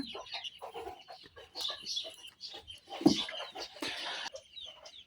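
Chickens cluck close by, several birds overlapping in short irregular bursts, with one louder squawk partway through.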